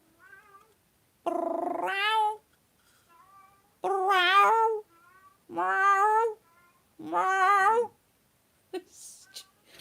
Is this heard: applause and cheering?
no